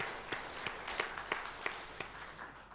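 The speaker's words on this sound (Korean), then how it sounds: "우리 호선나 큰 박수로 하나님께 영광 돌리겠습니다." A church congregation claps after worship singing at a Sunday service, sounding as a loose, fairly rhythmic run of about eight distinct claps spaced evenly, moderately quiet and with no talk over it.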